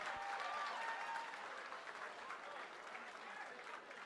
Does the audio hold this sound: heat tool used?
no